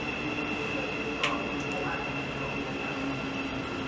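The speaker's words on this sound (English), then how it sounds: "the 1434 Thameslink service from Bedford to Brighton" Thameslink passenger train at Harlington station, a steady rumbling roar of carriages with a constant tonal hum, a brief squeal partway through, heard near and moderately loud without speech.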